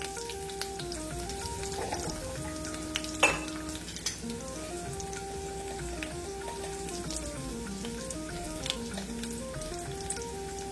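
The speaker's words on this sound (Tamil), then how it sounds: "கடுகு வெடிக்கிறது." Mustard seeds crackle and pop in hot oil with a steady, close sizzle and scattered sharp spits, while a faint, melodic background tone runs underneath.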